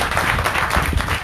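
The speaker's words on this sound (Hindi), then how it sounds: "सब ताली बजाओ तुम लोग भी" Brief burst of steady group clapping from an audience at a devotional house gathering in Baraut, India, dense and continuous throughout.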